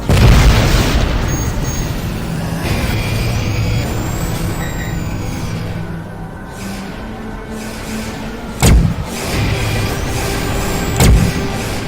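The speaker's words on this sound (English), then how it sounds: "That's a lot of plasma rockets." Plasma rocket fire and explosions in the space combat game Tachyon: The Fringe, a dense rumbling barrage with whooshing streaks, followed by two sharp, loud blasts near the end.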